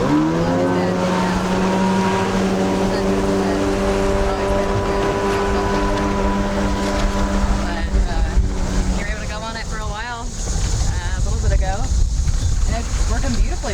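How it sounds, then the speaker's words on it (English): A WaveRaider personal watercraft engine idles steadily and loud nearby with a droning, even hum, then roughens and revs unevenly; people talk over it at lake shore. "I hopped on the WaveRaider and it fired right up and ran without a problem"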